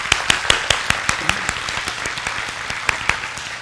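A church congregation applauds to welcome a visiting guest from Honolulu, a steady round of distinct, fairly close claps ringing through the hall with faint voices beneath.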